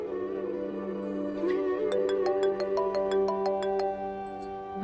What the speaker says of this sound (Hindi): भाई की फोन आ रही है,